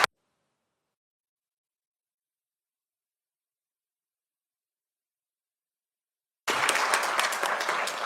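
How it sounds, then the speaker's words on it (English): Applause from the room at a city council meeting, starting abruptly after a long stretch of silence and continuing as dense clapping to the end. "can we give a round of applause to our Kiwanis?"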